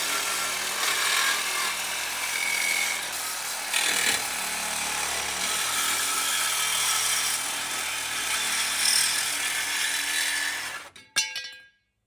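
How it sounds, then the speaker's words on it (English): A Sawzall reciprocating saw cuts on a Ferrari F355 with a Ford 5.0 swap, a loud, sustained buzzing rasp that continues nearly unbroken, then ends with a few rattling clatters as it stops. "Does it ever get old, sawzalling on a Ferrari?"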